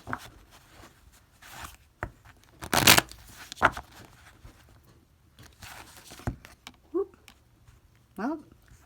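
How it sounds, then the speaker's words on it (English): Several quick bursts of cards being riffled and shuffled up close, separated by short pauses, with a couple of brief vocal sounds near the end. "Let me give this a good shuffle."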